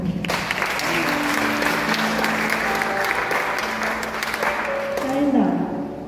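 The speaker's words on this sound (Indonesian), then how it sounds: "Kasih tepuk tangan." A church congregation at an ecumenical worship service bursts into steady, loud applause that holds evenly throughout, with a voice speaking over the clapping.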